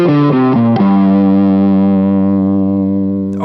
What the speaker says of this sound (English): Overdrive and the reverb allow those notes to take up more sonic space